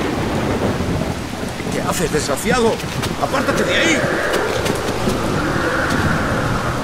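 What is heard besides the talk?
thunderstorm with rain through an open window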